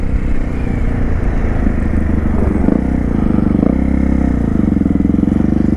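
A Honda Falcon NX 400 fitted with a 3-inch Atalla stainless steel exhaust accelerates on a test ride, a loud, close engine note building and rising with rattling wind noise.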